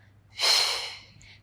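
A single close breath pushed out during a beginner Pilates hip-strengthening exercise, a soft airy rush that swells and then fades over about a second.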